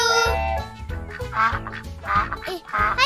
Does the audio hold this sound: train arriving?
no